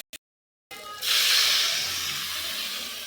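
A little water splashes into a hot pan of frying potatoes: a sudden loud steam hiss bursts up after a brief silence, then settles into a steady, slowly fading sizzle.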